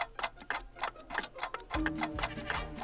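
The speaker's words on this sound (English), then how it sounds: "Hey, we got the clock to work!" A clock in the Toonstruck video game ticks steadily in a quick, even rhythm, faint and alone at first, then joined by soft game music partway through.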